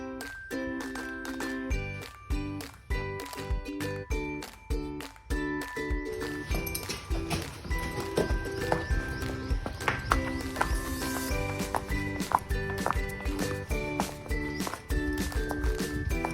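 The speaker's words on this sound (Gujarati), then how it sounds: "ચાલો હવે આપણે ઘોડીને બહાર પાણી પાઈને બાંધી." A mare walks at a farm, her hooves clip-clopping in a steady rhythm of close, distinct knocks. Some faint background clatter mixes in with the footfalls.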